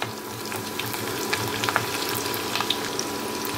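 Chopped onion frying lightly in mustard oil in a wok for an egg curry, a close, continuous crackling sizzle with small pops and occasional stirring sounds throughout.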